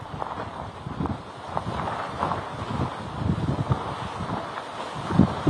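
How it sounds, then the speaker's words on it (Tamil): Strong cyclone wind blowing at Mamallapuram during Cyclone Fengal, a steady loud roar with gusty surges and microphone buffeting throughout, no voices heard. "தற்போது படிப்படியாக வந்து அந்த காத்து தான் ரொம்ப அதிகமாக அடித்துக் கொண்டிருக்கிறது."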